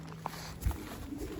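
Faint, soft coos from racing pigeons in a loft, a couple of brief low calls over a quiet room hum with a light knock partway through.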